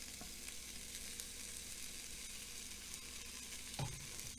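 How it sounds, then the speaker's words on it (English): Bacon sizzles with sautéed celery and onions in an Instant Pot, a faint, steady frying hiss with a brief stirring knock near the end and no talking. "and now we're going to throw in the bacon."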